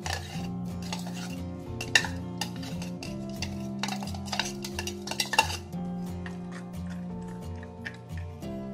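A spoon stirs dipping sauce with mint in a bowl, giving scattered clinks and scrapes over a steady background of music.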